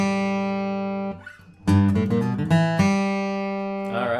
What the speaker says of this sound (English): this lick is called a G run